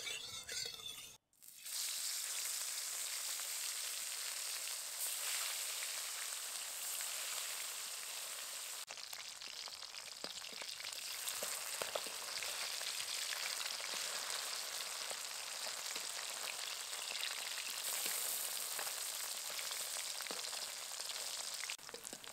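Fish sizzling and frying steadily in hot mustard oil in a kadai, a continuous dense crackle with small pops, close and fairly loud throughout with no voices.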